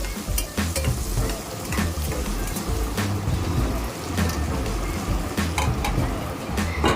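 Chana dal, urad dal, mustard seeds and turmeric frying in oil, a steady close sizzle with scattered crackles and stirring scrapes, no talk.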